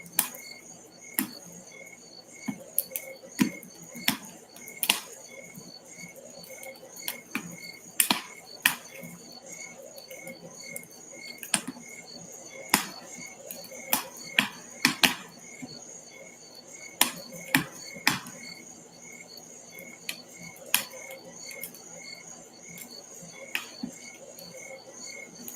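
Crickets chirping on a summer night beside a crackling fire, a faint steady insect trill with sharp pops and snaps scattered throughout.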